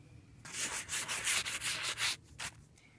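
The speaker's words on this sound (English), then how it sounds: "you're just going to be very lightly sanding the areas that you want to kind of remove the white" Light hand sanding of a chalk-painted wooden frame: a series of soft, rhythmic scratchy strokes, close and fairly quiet, with brief pauses between rubs.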